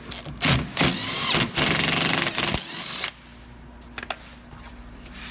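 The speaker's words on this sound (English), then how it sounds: "we're going to remove this 10mm bolt" A tool loosens a 10mm bolt under the front bumper of a 2015–2016 Honda CR-V, whirring and rattling loudly in close bursts for about three seconds before a few quiet clicks.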